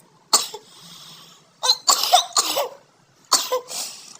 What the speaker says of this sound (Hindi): और खांसी हो रही है